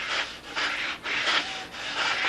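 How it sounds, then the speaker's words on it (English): Fresh sandpaper rubs back and forth across the wooden wing ribs of a model aircraft, Strega 7, in four or five close, soft, rhythmic strokes with brief pauses between them. "That's why you use new sandpaper,"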